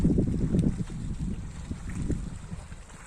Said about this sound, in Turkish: dalgalar vuruyor.